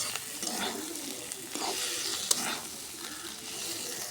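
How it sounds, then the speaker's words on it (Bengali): Bitter gourd frying gently in a covered pan on low heat, a soft steady sizzle with faint crackles and one sharp tick, close and alone without voices. "দেখুন আমার করলা ভাজিটা কত আস্তে জাল দিছে।"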